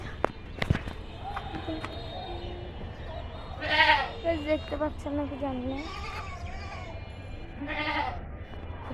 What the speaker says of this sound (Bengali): দিদি ছাগল আছে একটা